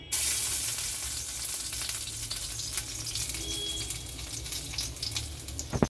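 Four crushed garlic cloves drop into hot oil and sizzle loudly at once, then settle into a steady close crackling fry for a potato capsicum dish.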